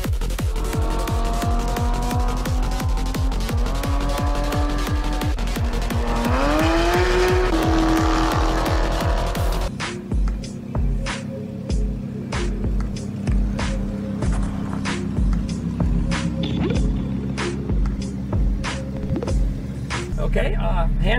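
Race cars lapping a circuit at a track day, with a Nissan GT-R among them: revving engines rise and fall in pitch through gear changes, loud and close at first, then more distant repeated passes with a steady rumble, while people talk.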